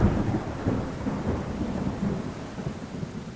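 A thunderstorm at Kennedy Space Center in Florida, with heavy rain hissing steadily and low rolling thunder rumbling throughout, loud and close with no voices.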